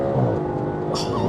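Audi RS4 with a naturally aspirated V8 at full throttle, a loud, dense, continuous engine roar heard from inside the car, with brief talk over it.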